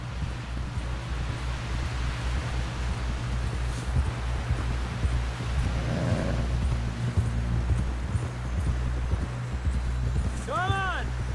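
Horse hooves clip-clop steadily on a trail in the Red Dead Redemption 2 video game, a close rhythmic gait under wind and a faint voice, with a brief rising call near the end.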